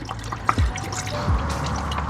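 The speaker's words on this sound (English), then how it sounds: "as the coolant's bubbling there, doing its little burps there" Coolant bubbling and gurgling in the radiator of a Mazda 121 after a thermostat replacement, with a couple of soft burping glugs, close by, over a steady low hum.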